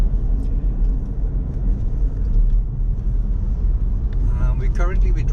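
A car driving into Tanjung Lumpur, a small fishing village, with a steady low road rumble inside the cabin and a voice talking over it near the end.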